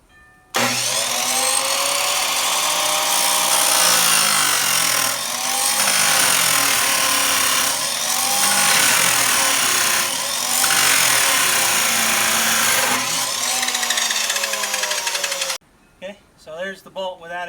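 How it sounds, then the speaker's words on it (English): A power tool grinding the unthreaded end of a bolt down to a point for a garlic planter spike, a loud continuous high-pitched grinding whine with brief pulses, then it stops and a person speaks. "we'll grind this unthreaded part down to make the point"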